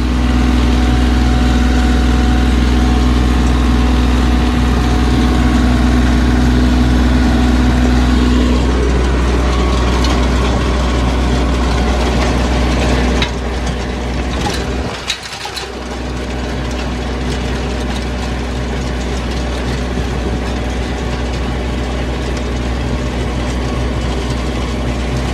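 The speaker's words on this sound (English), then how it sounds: "I ran this tractor, did a few rows with it" A brand-new Bobcat tractor engine runs steadily while rototilling a yard for a riding arena, a loud continuous mechanical drone with a brief dip partway through, no voices.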